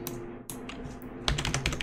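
Plastic Dinosaur World board game pieces shuffled inside a bag, a quick run of close, crisp clicking rattles that grows busier toward the end.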